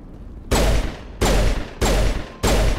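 A pistol in Mass Effect Legendary Edition fires four loud, sharp shots at an even, rapid pace, each blast ringing briefly before the next.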